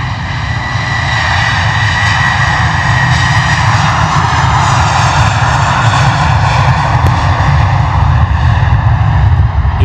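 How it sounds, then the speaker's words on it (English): An EasyJet airliner taxiing back to the terminal at London Luton produces a loud, sustained jet engine roar with a whining tone that holds steady and close for the whole stretch, with no voices over it. "EasyJet that we are just talking about, well and truly taxiing back to the terminal"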